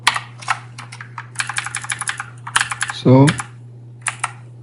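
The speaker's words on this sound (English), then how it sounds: "let's type our super secret password" Rapid, uneven keystrokes on a computer keyboard as a password is typed, close and clear, with a brief spoken word partway through and a steady low hum underneath.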